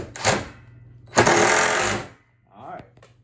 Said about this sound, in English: Now I can finish drilling the rest of them